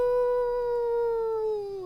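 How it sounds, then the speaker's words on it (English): A single long, clear wolf howl holds a steady pitch and then sinks slightly at the end, close and sustained with no other sounds. "you hear howling"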